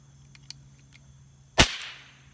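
A pump-action pellet gun dry fired after four pumps, a single loud sharp crack of released air after faint handling clicks, with a short trailing decay.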